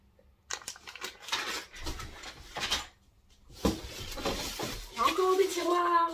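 Small drawers in a handmade set of autonomous learning workshop trays are handled, with rattling wooden and plastic clatter, sliding and knocks in bursts, fairly close and moderately loud.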